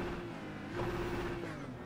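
Car engine in a racing video game revving up, a steady droning hum that swells slightly partway through, heard alone at moderate level.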